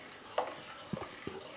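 A few soft scraping knocks of a spoon stirring soup in a pot, spaced out irregularly over a quiet, faintly sizzling background.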